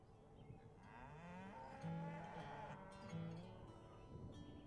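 Cattle on a ranch moo in long, low calls, with several overlapping lows rising and falling over a quiet, fairly distant background.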